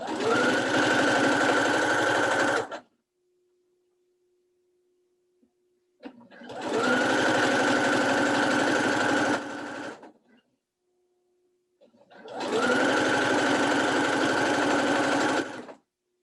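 Sewing machine stitching a tree appliqué onto a quilted Christmas throw pillow, three loud sustained whirring, rattling runs of a few seconds each, separated by quiet pauses while the fabric is adjusted.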